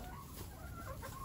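Chickens clucking in a sheltered coop during frigid winter weather: soft, continuous murmuring clucks at low level against a steady background hum.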